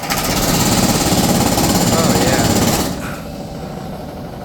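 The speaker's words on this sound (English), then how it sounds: "Oh, compressor's on." A Whirlpool window air conditioner's compressor kicks on with a loud, harsh rattling roar that fills the first few seconds, then drops abruptly to a quieter steady hum.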